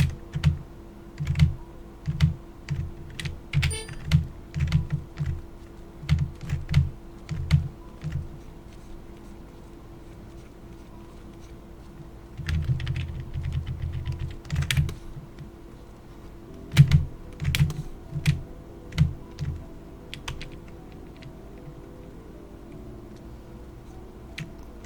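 A computer keyboard is typed on in steady close-up runs of clicking keys, with a short dense burst midway and scattered single taps toward the end, no voices.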